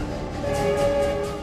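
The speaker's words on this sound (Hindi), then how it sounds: "और सामने से आ गई ट्रेन।" A train comes along railway tracks, its steady horn tone sounding for about a second over a continuous rumble and rail noise, fairly close and loud.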